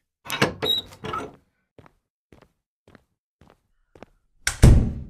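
A door slams in the video game Pathz: a few thuds and footsteps, then faint soft steps in near silence, ending with a loud heavy slam that rings out.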